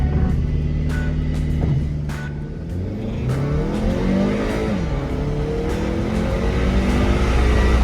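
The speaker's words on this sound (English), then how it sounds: "let's do a 0 to 60 test with the AC off and the car in dynamic mode." A 2020 Audi Q3 in dynamic mode with the AC off accelerates hard from 0 to 60, its engine note rising through the gears in a steady, loud roar heard from inside the cabin.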